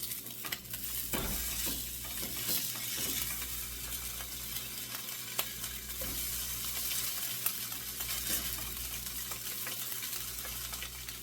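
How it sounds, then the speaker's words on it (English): Slices of Spam fry in a pan with a steady, quiet sizzle and crackle, occasional soft stirring or shifting sounds, with no talking. "we're going to cook each slice for about 2 to 3 minutes each side"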